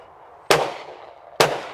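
Two loud, close shotgun blasts ring out about a second apart at a clay shooting range, each a sharp crack with a long fading tail, firing at a pair of clay targets.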